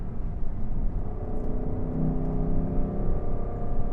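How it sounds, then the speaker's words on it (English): A Lexus LC500's naturally aspirated V8 gives a steady, continuous rumbling drone with a smooth harmonic growl, holding at a fairly even level throughout without any voices. "especially with this naturally aspirated V8 engine"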